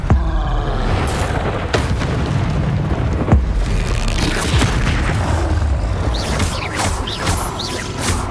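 Confringo explosive spell cast in the Hogwarts Legacy video game, a loud booming blast followed by rumbling crashes and debris in a dense, continuous battle mix.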